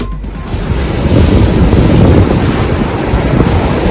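Surf rolling onto a beach in Tulum, Mexico, a steady, loud wash of breaking waves with gusty wind buffeting the microphone throughout and no voices.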